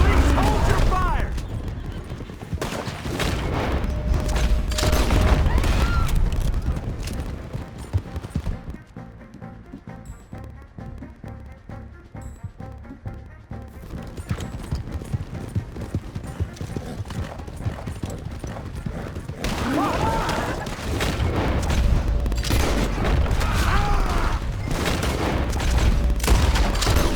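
Firefight in Red Dead Redemption 2: rapid, overlapping gunshots and bursts crack throughout amid hoofbeats and horse whinnies, with shouted voices over the chaos and a quieter stretch of muffled fire in the middle before the shooting swells again.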